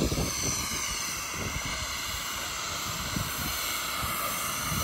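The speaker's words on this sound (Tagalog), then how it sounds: "Ito yung mga F-18 jet fighter." F-18 fighter jets on the flight deck of the aircraft carrier USS Nimitz produce a steady, continuous jet engine roar, moderately distant and without talk.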